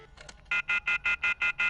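Seven evenly spaced telephone keypad DTMF tones beep in quick succession after a brief faint rustle, loud and close, no talking.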